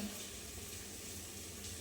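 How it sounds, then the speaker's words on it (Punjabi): Tadka of tempering spices frying in a pan gives a continuous, soft, even sizzle, faint and steady from start to finish with no voices. "ਤੜਕਾ ਨਾ ਭੁੱਜ ਗਿਆ"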